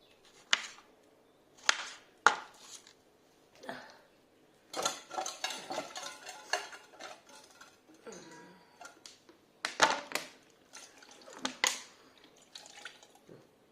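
A knife chops vegetables in a home kitchen in short irregular bursts of sharp taps on a board, close and moderately loud, separated by quiet pauses.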